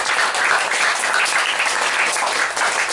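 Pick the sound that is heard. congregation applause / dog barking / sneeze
congregation applause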